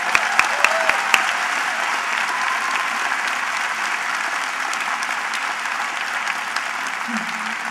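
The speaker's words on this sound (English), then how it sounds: "So one round of applause for Cynthia" A crowd at a Michelle Obama campaign event in Rochester, Minnesota applauds, starting with a few sharp, distinct claps that swell into a loud, sustained roar of clapping lasting the entire stretch.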